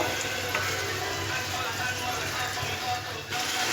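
Soybean chunks frying in a spiced masala, a steady close sizzle with faint stirring scrapes throughout, no one talking over it.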